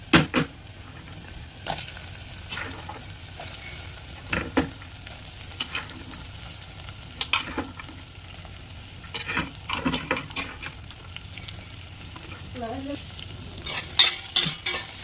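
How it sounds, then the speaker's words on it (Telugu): Chopped okra pieces frying in a pan with a little turmeric, giving a low steady sizzle broken by irregular scraping and clattering stirring strokes, close by, busiest near the end. "చిన్నగా కట్ చేసి పెట్టుకున్న బెండకాయ ముక్కలను వేసుకోవాలి"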